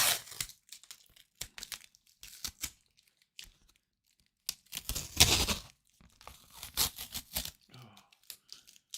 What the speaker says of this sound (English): Take off the tape, and let's see what we got.